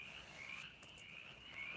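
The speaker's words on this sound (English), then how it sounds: "and there's frogs a hollering" Frogs croaking on a quiet evening outdoors, a steady chorus of faint, distant calls with a high sustained trill running throughout, no voices over it.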